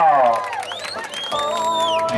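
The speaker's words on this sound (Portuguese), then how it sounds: "Uma salva de palmas" A small crowd at a family birthday celebration claps and cheers in a short burst, with whoops and whistle-like shouts rising over the applause.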